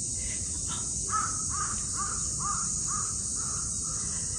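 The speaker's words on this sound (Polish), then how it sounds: "To, co słyszeliście, to jest tutejszy kruk." A raven calls with a series of about eight hoarse, evenly spaced croaks at moderate distance, heard alone over a steady high insect-like hiss.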